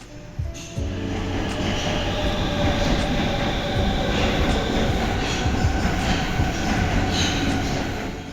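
A Stockholm subway train rolls along with a loud, steady roar, rumbling wheels and faint rhythmic clicks over the track joints, continuous throughout with no voices.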